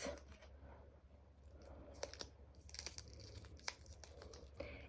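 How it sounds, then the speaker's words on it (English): Tape torn for a paper butterfly craft, a series of short crinkly ripping and rustling bursts, close and soft, with no talk. "now I'm going to tape her on to my butterfly wings"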